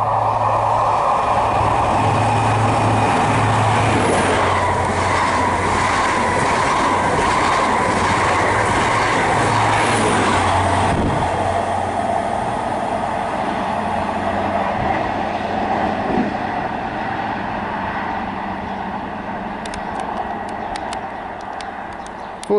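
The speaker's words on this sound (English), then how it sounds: "passing through now is a diverted service from London Paddington to Penzance, running approximately 70 minutes late" A diverted passenger train on the Great Western Main Line at Parson Street, bound from London Paddington to Penzance, passes loud and close with a steady rumble and rhythmic wheel clatter that thins out toward the end.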